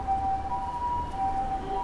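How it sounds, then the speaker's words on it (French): An ambulance siren passing on a street in Chiba, Japan, a thin two-tone wail heard at a moderate distance over steady traffic and street noise. "Et on a donc l'ambulance qui est de passage."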